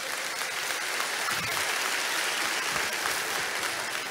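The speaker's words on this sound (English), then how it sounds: "Let's give her a round of applause" A church audience applauds after a pastor's sermon, with dense, sustained clapping that stays steady and fairly distant for the whole stretch, without a break and with no voice over it.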